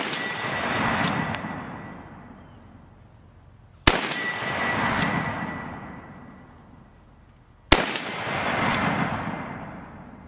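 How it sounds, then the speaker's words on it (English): Three sharp rifle shots from a Marlin chambered in .35 Remington, each followed by a long, fading metallic ring of a struck steel target, evenly spaced and loud with no talking. "So let's see if we can make that steel ring."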